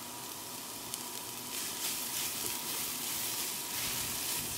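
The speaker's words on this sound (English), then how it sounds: "I'm gonna add some fresh garlic" Fresh garlic goes into a hot pan of beans and onions for butternut squash tostadas, giving a steady close sizzle and crackle that swells a little midway, with no talk.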